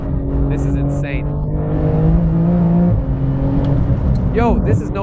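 A 700 hp Porsche 911 GT2 RS MR cruising on the Nordschleife, its engine a loud, steady droning hum from inside the car that rises slightly in pitch, with people talking over it.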